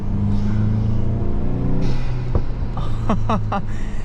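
A VW Mk8 GTI 40th Anniversary with a Stage 1 tune driving, a loud steady engine drone with intake whoosh rising and falling, plus a few sharp pops near the end.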